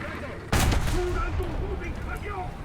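Tank cannon fire in War Thunder from an M41A1 light tank: one loud, sudden blast erupts after a quiet moment and leaves a long rumbling tail, with faint tones and game noise continuing beneath.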